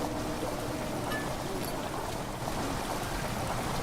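Water rushes steadily through a dark underground passage in Amnesia: The Dark Descent, a continuous broadband wash with low rumble that holds level for the whole stretch, with no talk over it.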